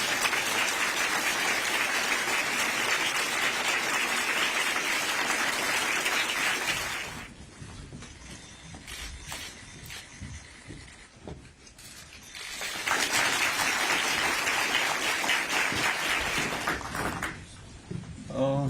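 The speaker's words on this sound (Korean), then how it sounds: "모두 박수로 환영해 주시기 바랍니다." Two bursts of audience applause welcome a speaker at a retirement ceremony: a long, steady round of clapping, a quieter stretch with scattered claps and rustling, then a second full round that fades out near the end.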